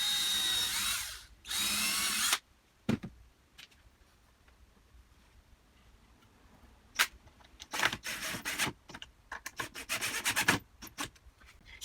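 A power drill drives 1 1/4 inch screws into wooden desk pieces, with two sustained whirring runs early on followed by a series of short, sharp bursts and scraping taps, close and without talk.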